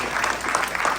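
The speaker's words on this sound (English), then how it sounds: "can we just give a round of applause for him handling this stuff?" Short burst of audience applause at a debate on legalizing recreational marijuana, dense clapping from a room of people, loud and close, lasting about a second.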